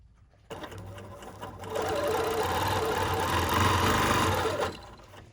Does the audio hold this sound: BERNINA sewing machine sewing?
yes